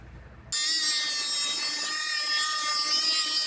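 A tool cutting along the inside edge of a strip of tape: a steady, close whining cut begins after half a second of quiet and runs on without a break to the end.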